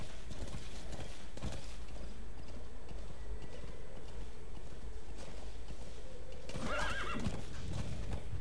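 A horse in battle armor galloping in the video game Metal Gear Solid V: The Phantom Pain, a steady run of hoofbeats close by with a whinny near the end, no talking.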